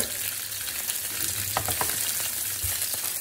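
Onion, garden rosemary and whole garlic cloves frying in a pan, a loud, steady sizzle with a few stirring scrapes, heard alone with no talking.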